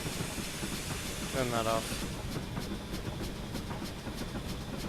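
A model goods train rolls along its track on a layout, with a steady rumble and light rhythmic clicking of wheels over rail joints while a voice speaks briefly.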